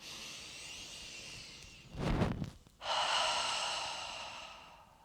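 Deep, slow breaths during a seated chair yoga exercise: a long airy exhale, a brief pause, then a second long breath, close and clear with no talking.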